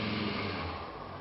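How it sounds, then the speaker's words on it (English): A car engine roars at wide open throttle during an automatic transmission stall test, a continuous loud drone that holds steady for the whole moment with no talking. "Even with the engine running wide open"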